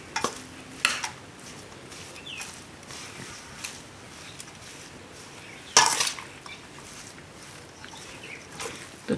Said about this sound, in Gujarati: હવે આ બધું મિક્સ કરી લેવું.